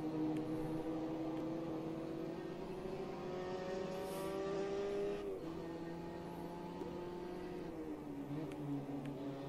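Ginetta race car engine in the racing game Automobilista 2 at Donington, a steady loud whine that climbs in pitch, drops at each gear change and climbs again, continuous and without talking.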